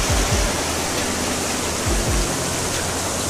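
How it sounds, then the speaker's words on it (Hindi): Clear river water flows over rocks in the mountains, making a steady, loud broadband rush with no pauses. A few soft low thumps sit beneath it, and no one speaks. "देखिए कितना साफ पानी बहता हुआ।"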